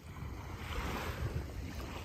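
Ocean waves wash onto the shore at Goodmans Beach in Nassau, Bahamas, heard as a steady, fairly faint surf hiss mixed with light wind noise, with no voices.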